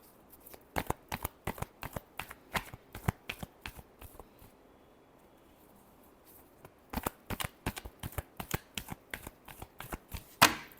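Tarot cards are shuffled up close in quick, crisp flicking bursts, one run of shuffling, a short pause, then a second run ending in a sharp final snap; no talking.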